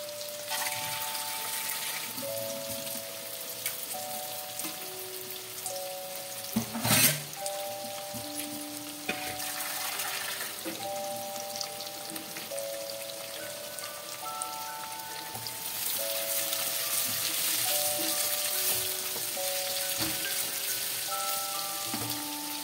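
Carrots fry lightly in oil for fried rice, a soft continuous crackling hiss that swells toward the end beneath a quiet background melody, with one sharp clatter midway.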